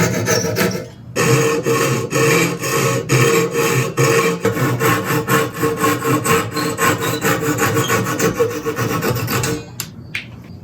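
Steady back-and-forth strokes of a hand saw cutting wood, loud and close, rhythmic rasping for several seconds before stopping abruptly.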